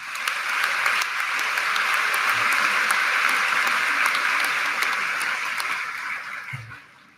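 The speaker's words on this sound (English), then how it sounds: "Please give them all a round of applause." A high school graduation audience applauds in a large hall, with dense, sustained clapping that holds steady for several seconds and then fades out near the end.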